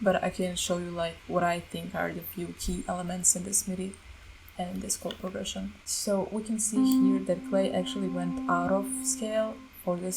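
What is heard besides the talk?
No everyday noises stand out.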